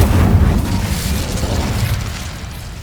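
Incendio fire spell cast in the Hogwarts Legacy video game, a loud, close burst of whooshing, rumbling fire that starts strong and fades slightly over a few seconds.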